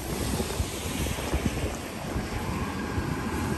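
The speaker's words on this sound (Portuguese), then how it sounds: "O problema é só maior o vento." Steady wind buffeting a handheld microphone on a New York City street, a loud continuous low roar and rumble that fills the whole clip with no voices over it.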